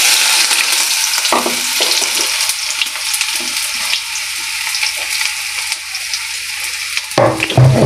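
Finely chopped onions sizzling in hot oil in a pan, a steady bright crackle with occasional stirring scrapes, close and continuous, briefly dipping before a louder burst near the end.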